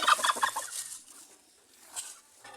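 A brooding hen turkey sitting on her eggs calls close by in a short burst of gobbling, clucking notes at the start, then falls mostly quiet with one faint call near the end.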